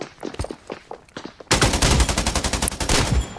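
Shotgun fire in the video game Scarfall 2.0 begins after a stretch of soft scattered clicks and steps, then erupts into a loud, rapid run of closely spaced shots.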